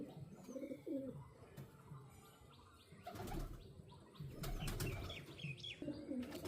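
Malwai pigeons, including hens and a young bird, cooing softly with bursts of wing flapping and scattered chirps nearby, in a busy, slightly noisy setting.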